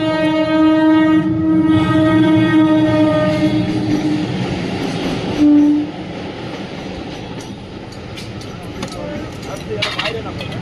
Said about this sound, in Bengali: একটা ট্রেন ঢুকেছে